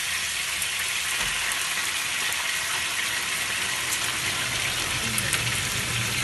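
Rice being dry-roasted in a pan gives a constant, even hiss of frying that stays level throughout, with no speech over it.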